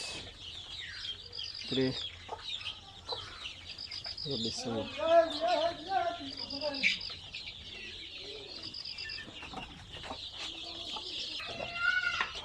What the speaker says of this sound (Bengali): দেশি মুরগির বাচ্চাগুলো সকালের খাবার পানি খাইতেছে